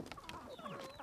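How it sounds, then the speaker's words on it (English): Chickens clucking close by, several quick overlapping clucks and squawks in a short burst, fairly faint with no talking. "because they're chickens, they're everywhere"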